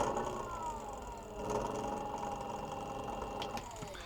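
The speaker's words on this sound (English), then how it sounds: "It has a relatively quiet motor." Electric coffee grinder with a relatively quiet motor grinding coffee beans, a steady close whirring drone with a slight pitch shift partway through and faint rattling.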